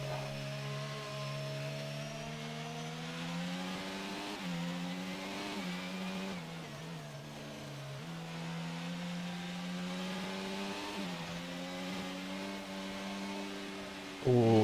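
A race car engine in a Hungary sim racing game screams at high revs, its pitch climbing and dropping through repeated gear shifts as the car runs with some oversteer out of the final corner, loud and steady throughout.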